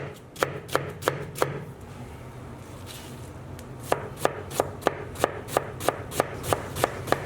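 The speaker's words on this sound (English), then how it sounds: "all we want to do with our onion is just finely dice it" A knife finely dicing a brown onion on a cutting board gives sharp, rapid taps, first a short burst of five, then after a pause a steady run of about a dozen close, crisp chops.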